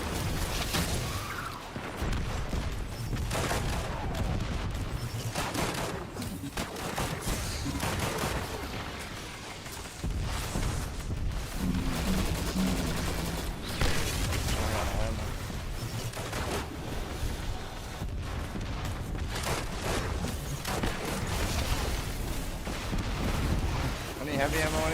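Sustained, heavy gunfire in the video game Destiny 2, dense overlapping shots and blasts throughout a busy combat scene, with people talking over the noise at times.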